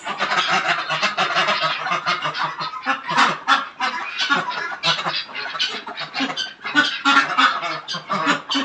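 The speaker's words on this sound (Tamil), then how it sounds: "அது ஆணு வாத்து." A group of ducks, including a male, calls in a garden with loud, near, repeated honking quacks in busy overlapping bursts that continue throughout.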